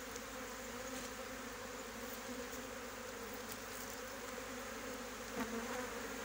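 A honeybee swarm droning steadily at a hive, a dense continuous buzz that stays even throughout with no voices.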